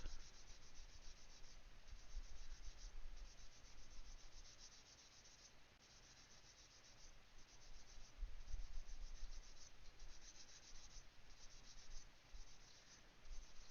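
Gunpla model parts are rubbed with 400 grit sandpaper in quiet, close, rhythmic back-and-forth scratching strokes, faint and steady with no voices.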